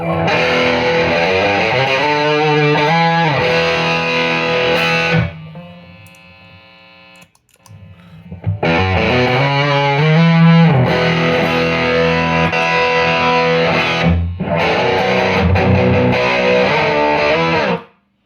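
Loud, heavily distorted electric guitar fuzz played in chords, with a brief quieter sustained passage midway before the thick buzzing tone returns.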